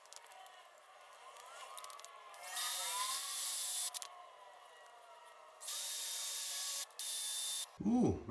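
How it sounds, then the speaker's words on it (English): A drill bores holes with a half-inch bit for Tapcon anchors during a kitchen island build, running in several loud bursts of a few seconds each with quiet gaps between, and a brief clatter at the end. "I'm going to drill those two areas on either side for the tapcons"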